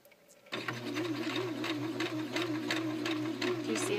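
After a brief quiet start, an electric sewing machine runs steadily while stitching a pant hem, giving a continuous, fast, even mechanical whirr with rapid needle clatter, close and alone.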